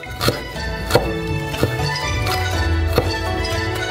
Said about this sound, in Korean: 또 매우 얇게 다져주세요.